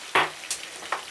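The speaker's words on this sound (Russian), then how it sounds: "У нас рыба зажарится." Short bursts of sizzling from fish frying in a pan, three hissy surges over about a second with no voices.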